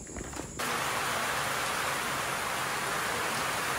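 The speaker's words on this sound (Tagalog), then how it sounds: "Nagtuloy-tuloy ang ulan" Steady rain falls in Abra in the Philippines, a continuous dense hiss that sets in abruptly after a brief quieter moment and holds even and loud throughout, with no voices.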